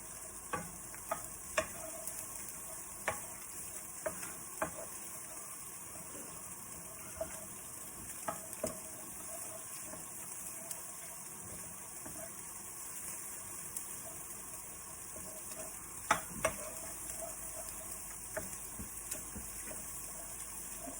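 Turnip cake ingredients with black Cheung cook in a pan at a soft, low sizzle, broken by scattered clicks and taps of stirring over about twenty seconds.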